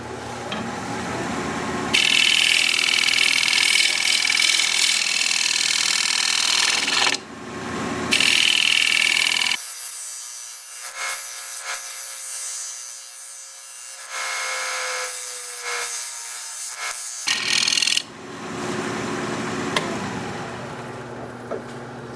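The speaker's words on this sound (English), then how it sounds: "You can see it cuts pretty cleanly for a soft wood, very soft wood." A lathe tool cutting very soft wood on a wood lathe gives a loud, steady rasping scrape in long passes, broken by a quiet gap and resuming afterward.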